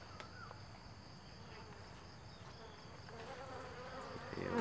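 Honey bees buzz around an open hive during an inspection, a faint, continuous droning hum that swells slightly toward the end.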